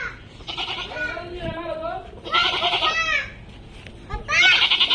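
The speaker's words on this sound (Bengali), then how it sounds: "এখন ছাগল গুলা, এই যে এগুলো ছাগল" Goats on a farm bleat in several loud, wavering calls, close by and overlapping, with brief gaps between them and some faint background voices.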